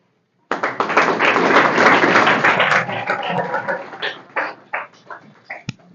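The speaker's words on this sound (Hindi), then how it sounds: "ताली मारो भाई इन लोगों के लिए" An audience at an employment motivation camp breaks into dense, loud applause for about two seconds, which then thins into scattered individual claps and fades out.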